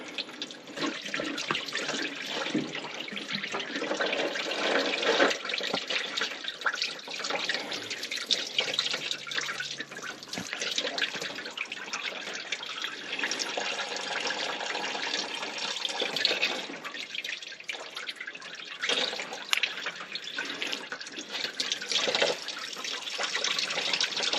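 Engine coolant draining steadily from an 1983 Volvo C30 into a drain pan, a continuous close splashing and trickling of liquid with no talk over it.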